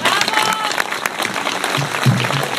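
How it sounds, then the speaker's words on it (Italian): A crowd at a mayoral event in Lauropoli claps steadily, a dense patter of applause filling the whole stretch without a break. "Accogliamolo con un applauso."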